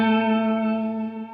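Sustained guitar chord played through a reverb preset on a Donner pedal board, ringing with shimmering chorus-like effects and a long reverberant tail that slowly fades, heard alone.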